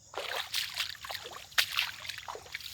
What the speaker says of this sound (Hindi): मैं चल रहा हूँ, आपको एहसास हो रहा होगा इस पानी की आवाज़ से कि इसमें कितना पानी भरा हुआ है